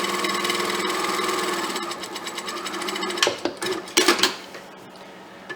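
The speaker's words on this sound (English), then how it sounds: "I am just going to sew right along the edge of my press to put that seam down." A sewing machine runs steadily, stitching along a pressed seam on a fabric gnome, with a fast mechanical whir, then a few louder clunks as the stitching ends.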